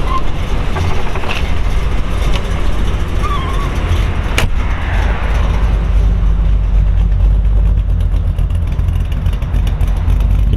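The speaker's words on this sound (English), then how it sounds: "I'm gonna get out and let you hear this thing run." A 1955 Chevrolet Bel Air two-door hardtop resto-mod with a performance cam runs steadily at close range, a loud continuous engine rumble filling the clip with no talking.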